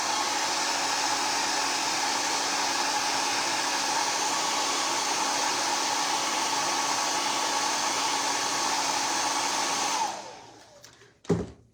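A hair dryer blows steadily on a craft piece, a loud, even whooshing roar for about ten seconds before it shuts off and winds down, followed by a brief clunk.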